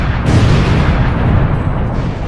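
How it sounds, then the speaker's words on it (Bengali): Sticky bombs detonate in a video game as one loud, sustained roaring blast that fills the whole stretch, close and heavy, then cuts off abruptly. "আমি এখানে অনেকগুলো স্টিকি বম লাগিয়ে দিয়েছি। এবার বোমগুলো ব্লাস্ট করে দিই।"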